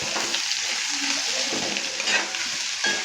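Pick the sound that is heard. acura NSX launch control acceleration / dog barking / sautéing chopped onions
sautéing chopped onions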